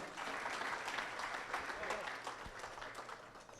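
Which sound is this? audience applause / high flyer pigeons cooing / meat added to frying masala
audience applause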